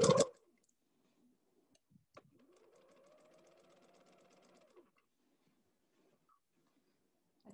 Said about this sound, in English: We're going to sew forward and sew backwards.